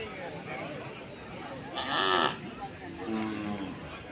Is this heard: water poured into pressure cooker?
no